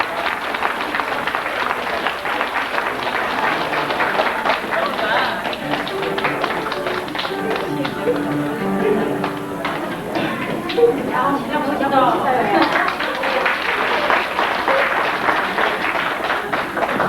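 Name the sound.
wedding guests applauding the groom's entrance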